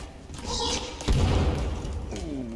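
A sticky bomb stuck to a boss in a video game goes off with a single heavy, muffled thud partway through, while other game noise continues around it.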